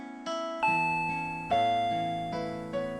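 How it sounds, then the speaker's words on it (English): A doorbell in the Higurashi When They Cry visual novel rings as a sequence of sustained electronic chime tones, each struck note decaying slowly, clear and alone. "the doorbell rang"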